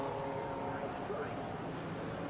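GT race cars at Silverstone circuit roar along in a steady engine drone that stays even throughout, heard under a commentator's voice.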